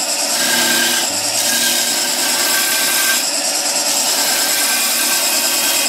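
Smaller skew chisel cutting spindle wood on a lathe, a continuous loud scraping hiss with a brief shift in tone near one second and again around three seconds, heard alone.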